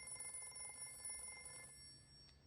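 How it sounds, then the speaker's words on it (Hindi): A mobile phone rings faintly in a room, a thin steady electronic tone with pulsing texture that stops partway through, leaving quiet background. "फोन बज रहा है तेरा।"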